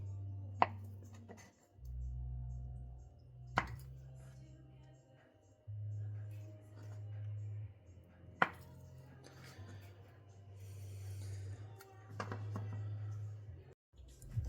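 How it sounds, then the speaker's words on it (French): A knife cuts butter into pieces on a board for spinach and cheese tartlets, giving a few sparse, sharp taps spaced seconds apart over a low background hum. "On va couper le beurre en morceaux."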